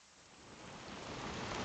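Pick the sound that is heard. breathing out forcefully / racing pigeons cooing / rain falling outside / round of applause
rain falling outside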